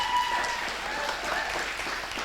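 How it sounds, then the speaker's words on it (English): Audience applause for the panelists at the close of a televised debate on cannabis legalisation, a steady, dense clapping that holds at an even level for the full two seconds with no voices over it. "Can we get a round of applause for our fantastic panelists?"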